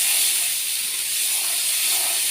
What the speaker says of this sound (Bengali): যে এটা দিয়ে ভালো করে আমি কষাবো যতক্ষণ না মশলার কাঁচা ভাবটা না যায়।